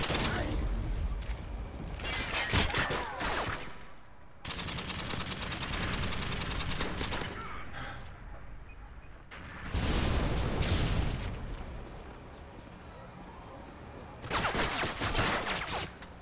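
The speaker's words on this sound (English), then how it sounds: "I hear a lot of grenade launchers." Grenade launchers and gunfire in Call of Duty Modern Warfare 2 on PS3: repeated heavy blasts and rattling bursts in loud waves, with a voice talking over the game.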